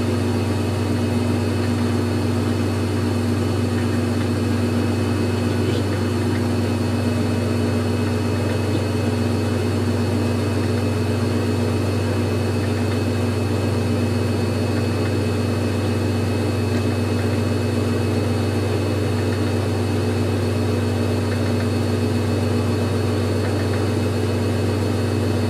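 A GE Infusor high-efficiency top-load washer, model GTWN5050M0WS, spinning: a steady loud motor drone with a strong low hum and whine, continuous and unchanging, close by.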